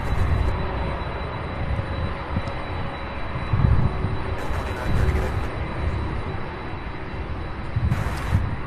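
A UPS Boeing 767 cargo jet at Louisville International Airport produces a steady, broadband engine roar that holds at a constant moderate level throughout, heard from a distance with no talking.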